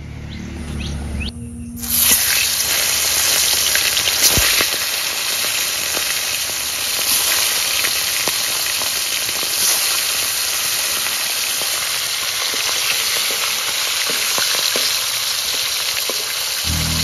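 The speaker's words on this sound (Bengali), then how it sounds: "মাছ ভাজার জন্য কড়াইয়ে সর্ষের তেল দিয়ে দেব" Pomfret fish rubbed with salt and turmeric hits hot mustard oil in a kadai, bursting into a loud, steady, hissing sizzle that carries on without a break, with a few faint spatters.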